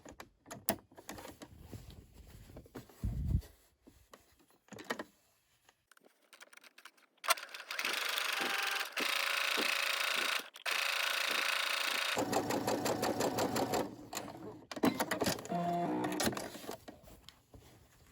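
Sewing machine stitching fabric close by, running in long steady rattling bursts with brief pauses between runs, alongside scattered handling clicks and thumps; no talking.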